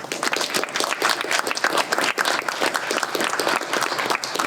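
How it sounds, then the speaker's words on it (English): Applause from a crowd at a new car giveaway at a Toyota dealership, dense and continuous clapping throughout, close and fairly loud. "just one last round of applause"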